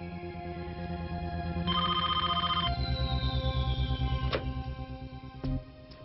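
Telephone ringing indoors, a repeated electronic ring tone over background music, with a brief rising chime and a couple of sharp clicks near the end.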